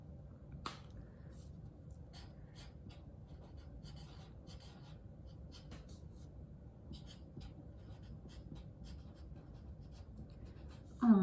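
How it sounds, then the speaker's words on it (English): Pen or marker writing Happy Father's Day onto a paper craft tie, a faint steady scratching of short strokes at close range, with a louder rustle at the very end. "I think I'm going to write Happy Father's Day"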